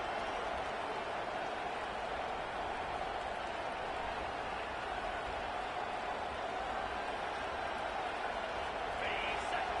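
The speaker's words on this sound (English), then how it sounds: "This crowd trying to make life miserable for this offense." A dense, steady roar from a stadium crowd at a college football game stays loud and unbroken throughout, a continuous wash of massed voices with no clear pauses.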